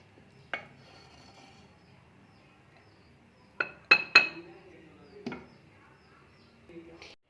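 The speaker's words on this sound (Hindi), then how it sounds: "अब मैं करूँगी इसको डिश आउट।" A spoon scrapes and clinks against a pan while green chilli curry is dished out, with a few isolated metallic knocks and a quick cluster of ringing clinks, close and clear in a quiet kitchen.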